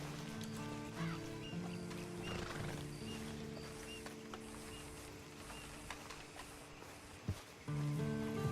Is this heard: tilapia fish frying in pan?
no